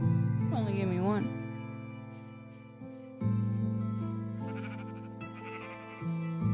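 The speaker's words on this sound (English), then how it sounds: "Another sheep?" Sheep in the video game Minecraft bleat in a few wavering, synthetic-sounding calls, the first sharply warbling and the later ones lower and repeated, fairly close and clear over a quiet game background.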